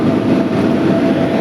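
A train arriving at a station rumbles in a brief, loud, steady burst of close rolling noise.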